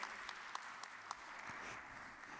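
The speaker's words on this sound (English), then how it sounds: "Please give a big round of applause for Zahari Dolomanji." An audience at a conference stage event applauds a speaker. The clapping is dense and steady, heard from a moderate distance throughout, with a few sharper claps standing out and no talking over it.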